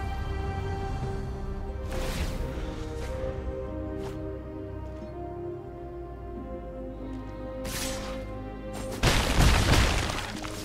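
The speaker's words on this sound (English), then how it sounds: "Fireball." A Fireball spell resolving in the digital card game Magic: the Gathering Arena: several bright crashing, shattering bursts over steady game music, the loudest and longest roaring out near the end.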